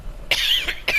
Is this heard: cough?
yes